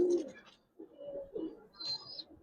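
Small Giribaz pigeons in a loft coo in several low, rolling bursts close by, fairly quiet, with one brief higher chirp near the end and no speech.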